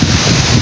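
Wind blows outdoors on a fishing trip, a brief, loud, rumbling gust buffeting the microphone.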